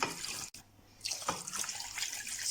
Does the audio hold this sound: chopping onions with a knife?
no